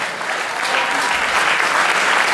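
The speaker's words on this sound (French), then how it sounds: "On l'applaudit bien fort" An audience at a rock concert applauds a guitar teacher loudly, the clapping building slightly and staying dense and continuous throughout.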